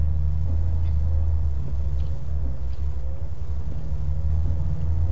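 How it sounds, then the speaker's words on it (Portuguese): A heavy truck in Euro Truck Simulator 2 multiplayer pulls away in a convoy on a mountain road, giving a steady, loud, deep engine rumble with no voices. "calma aí, que o caminhão tá arrancando."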